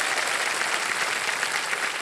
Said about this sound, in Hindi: इनके लिए भी तालियां बजाएं